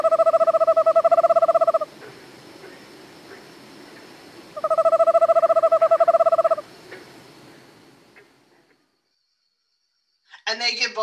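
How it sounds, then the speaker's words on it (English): Owl giving two long monotone trills, each an even rapid pulsing tone lasting about two seconds, separated by a pause and followed by quiet, then a brief voice at the end. "the other sound that they make is this monotone trill"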